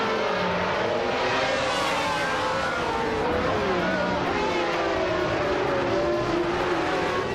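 A 1995 Benetton B195 Formula 1 race car in a racing video game, engine wailing steadily and loudly with shifting pitch, joined by other cars' engines throughout.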